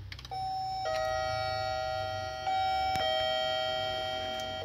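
A newly installed apartment entrance intercom panel rings a doorbell chime, a steady electronic multi-tone ring sounding loud and close, restarting a few times with sharp clicks between rings.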